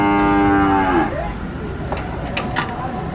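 Cattle are unloaded from a truck as one cow gives a long, loud, close moo that fades out, followed by quieter background noise and a few faint knocks.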